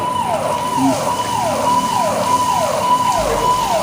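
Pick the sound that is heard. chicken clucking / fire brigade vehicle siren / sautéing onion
fire brigade vehicle siren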